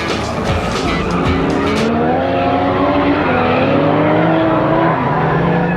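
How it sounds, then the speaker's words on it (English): Race cars, an NSX Type R and a GT3 among them, launch from the start at Fuji Speedway. Loud engines roar continuously and rise in pitch through the gears as the cars accelerate away together. "NSX Type R dashes off, and the GT3 showing some power right from the start."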